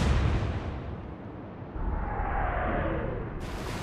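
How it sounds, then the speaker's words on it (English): Armor-piercing naval gunfire in the Atlantic Fleet warship game, a loud booming blast that rolls into a sustained rumble lasting several seconds, with a brief whistling trail. "I'm going to shoot AP this time."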